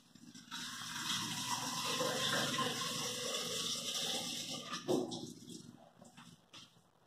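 Water runs steadily from a kitchen tap into a pressure cooker holding a piece of pork, a continuous filling rush that rises slightly, then cuts off into a few small clanks and drips.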